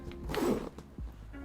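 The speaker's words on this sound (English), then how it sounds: "You're gonna get these really high quality YKK zippers." A metal YKK zipper on a leather weekender bag being pulled, a brief rasping slide up close followed by a short second zip, with no talk.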